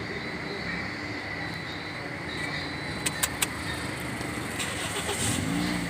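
A Toyota Corolla with a hard-starting problem is started after sitting two hours, heard as a faint engine turning over and catching into a low idle, with a few brief sharp clicks partway through.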